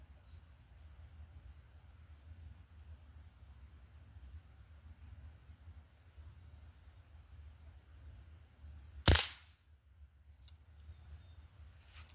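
A single sharp crack from an air rifle firing an Estrella Parco pellet cuts through quiet outdoor background hum, followed by a faint trailing rustle.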